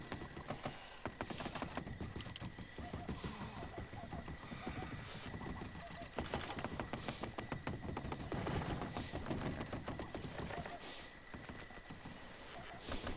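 Steady clip-clop of horse hooves in the video game Red Dead Redemption 2, in a quick, even rhythm, with a faint wind-like hiss over the top and no voices.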